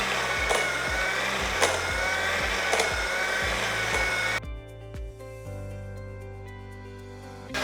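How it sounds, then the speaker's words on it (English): An electric hand mixer beats butter and sugar in a bowl, a loud, steady motor whir with periodic knocks of the beaters against the bowl, then the pitch drops and the whirring changes as the mixer slows. "I'm beating my butter and adding a sugar"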